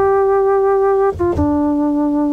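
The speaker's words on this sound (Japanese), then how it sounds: "エアブローという名前の音色なんですが" An original Yamaha DX7 playing its Air Blow preset, a breathy flute-like synth tone held as clear sustained notes that step down in pitch partway through with a short breathy articulation between them, loud and alone.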